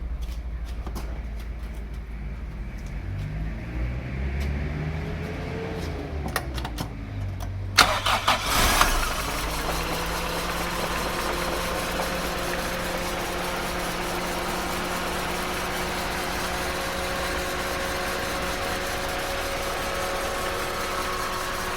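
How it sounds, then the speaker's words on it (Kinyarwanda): A car engine cranks with a whining starter, catches with a loud burst, then settles into a steady, even idle that hums on to the end. "Urabona ko moteri yanjye rero irimo iraka."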